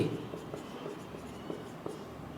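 Chalk or pen scratches across a board during a Class 9 geometry lesson on quadrilaterals, a steady run of short, close writing strokes with faint room noise.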